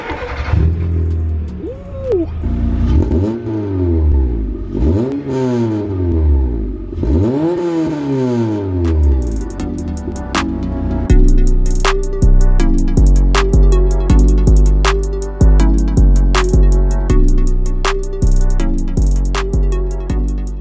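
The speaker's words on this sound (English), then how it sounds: "start it up, get an exhaust note for you" A VW Polo 6N's engine cranks and starts with a few rising revs, then settles into a loud, close, steady idle exhaust note with rhythmic pulsing and faint clatter, no talk.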